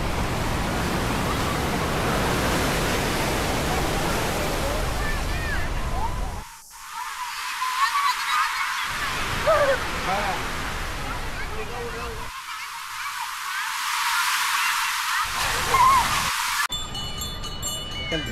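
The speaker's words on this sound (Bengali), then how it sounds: "অনেক বড় বড় ঢেউ।" Big ocean waves break on Marina Beach in Chennai, making a steady, loud roar of surf and wash with brief dips where the low rumble drops away.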